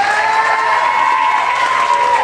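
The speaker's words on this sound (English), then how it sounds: "Please give all the contestants a great big round of applause." Audience at a country singing competition at a fair applauds and cheers the contestants, a steady, loud wash of clapping and crowd noise with no pauses.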